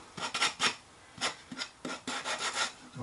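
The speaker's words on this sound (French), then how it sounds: "On donne un petit coup de ponçage propre." A sanding block rubs back and forth over a freshly cut piece of wood, giving a series of close, loud rasping strokes in an uneven rhythm with short pauses between them.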